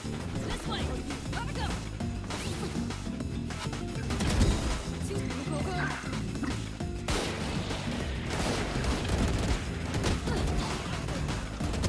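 Gunfire in the Valorant video game, a dense, continuous stream of shots and impacts layered with game effects across the whole stretch, with occasional louder bursts.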